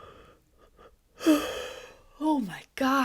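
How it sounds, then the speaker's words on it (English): A person yawns aloud during a calm, spoken guided energetic cleanse. Several drawn-out, breathy vocal stretches come close and fairly loud, rising and falling, with short pauses between them. "I'm sure this is so annoying to listen to as I'm sitting here yawning"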